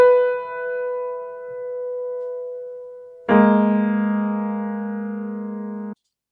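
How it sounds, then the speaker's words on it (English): Two sustained piano chords ring out one after another, each left to decay slowly, the second louder and cut off abruptly. "So here I just have this piano part."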